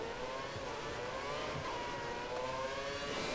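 Formula 1 race car engine at hard throttle in the F1 2013 game at Singapore, a steady high droning whine held for several seconds, loud and continuous with no talk.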